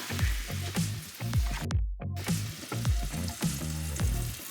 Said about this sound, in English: they should fry up for about 5 minutes